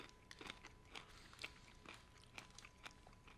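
Someone bites into and chews a Heath toffee bar, giving repeated crisp crunches at a steady chewing rhythm, close but fairly quiet, with no talk.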